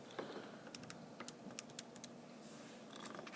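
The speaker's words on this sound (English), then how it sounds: "And when I type that in" A computer keyboard clicks in quick, irregular bursts of keystrokes, quiet and close, with short pauses between clusters and no voices.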